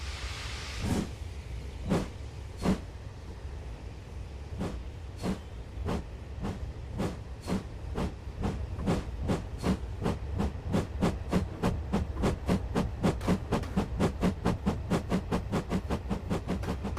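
Rhythmic clacking of train wheels over rail joints on the Ffestiniog Railway in Train Simulator 2020, starting slow and steadily speeding up into a fast, regular clatter over a low rumble.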